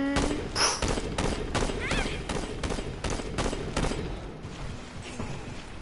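Shotgun blasts in the video game Saints Row, a rapid string of sharp booming shots fired in quick succession, close and loud over game background noise.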